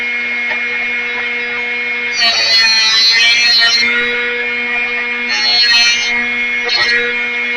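A Drill Doctor 750 sharpener with a manufactured-diamond grinding wheel runs with a steady, loud tonal motor whine, while bursts of gritty grinding rise over it as a drill bit is sharpened.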